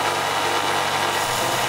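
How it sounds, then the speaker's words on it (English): A belt sander grinds down the surfaces of a metal clock part in a home machine shop, a loud, steady motor whine with continuous abrasive rasping running unbroken throughout. "I used a belt sander to bring all of the surfaces closer to the line"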